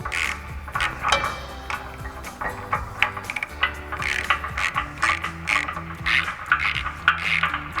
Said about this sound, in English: Now we use our 21 mil socket to remove this bolt.